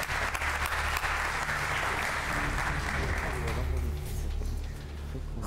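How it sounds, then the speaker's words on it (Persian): Studio audience applause on an Iranian entertainment show, dense steady clapping that fills the room and fades slightly toward the end, with a host's voice faintly underneath. "تشویقشون کنی."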